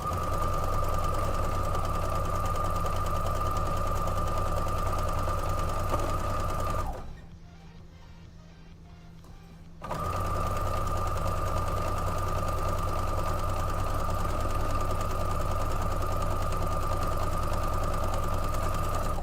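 A sewing machine runs steadily, stitching long quilt pieces for a beginner-friendly quilt, a loud continuous whir with a brief drop around the middle before the motor picks back up and hums on.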